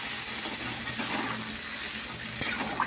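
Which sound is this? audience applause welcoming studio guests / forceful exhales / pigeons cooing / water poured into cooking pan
water poured into cooking pan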